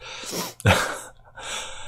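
A single sharp sneeze, close and loud, preceded by a quick intake of breath and followed by a brief breathy exhale.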